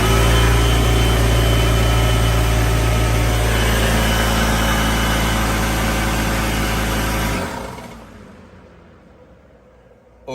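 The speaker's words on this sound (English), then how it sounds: "Let's plug the compressor in." Air compressor powered from a portable power station, droning loudly and steadily for several seconds before cutting out and winding down to near silence.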